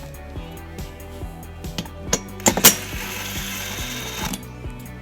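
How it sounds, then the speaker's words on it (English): Ratchet fitted with a 10mm socket loosening the lower bolts under a 2019 Subaru Legacy, heard as several faint, irregular clicking bursts over a steady mechanical background, with a few louder clacks midway. "We're going to remove those bolts using a 10mm socket."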